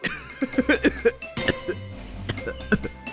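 A string of short, sharp coughs in quick succession, close and fairly loud, followed by a few more scattered coughs and throaty noises.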